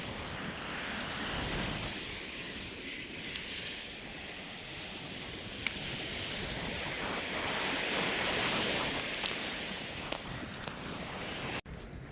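Rough ocean surf after a nor'easter storm washes steadily onto a beach, with a constant roar of waves and gusting wind buffeting the microphone.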